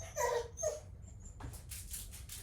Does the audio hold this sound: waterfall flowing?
no